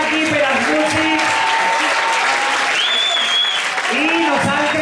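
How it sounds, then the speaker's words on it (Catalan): An audience at a school poetry recital claps loudly and continuously for the language department and musicians, a thick sustained round of applause with some voices and whoops mixed in. "Aplaudiment per al Departament de Llengües"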